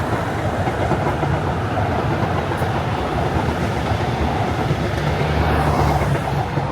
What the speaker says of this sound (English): So even if I'm being disrupted by a SLE train,